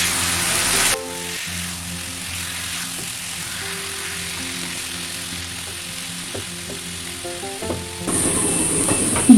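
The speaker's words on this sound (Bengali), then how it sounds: "এখন এইভাবে আরও 2 মিনিট নাড়াচাড়া করতে হবে, যাতে মশলাগুলো ভাজা ভাজা হয়ে যায়" Potatoes and spices crackle and hiss as they fry in a pan. A utensil stirs them in a few soft scraping strokes. The sizzle is steady, close and loud, with no talking.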